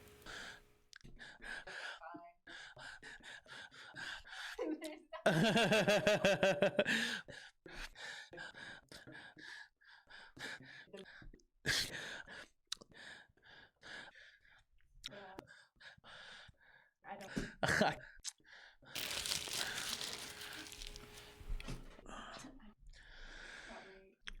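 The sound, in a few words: heavy breathing compilation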